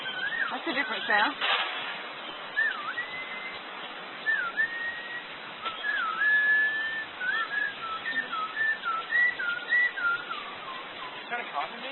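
A loud bird at Hong Kong Zoo gives repeated sliding, whistled calls in short bursts, answered by human whistling, with people talking throughout.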